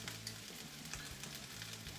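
Butter is stirred into shredded cabbage in a hot pan, giving a faint, steady sizzle with soft stirring scrapes and no talking.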